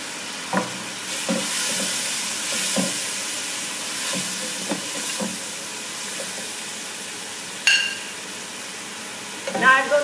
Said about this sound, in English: I'm going to add my garlic ginger paste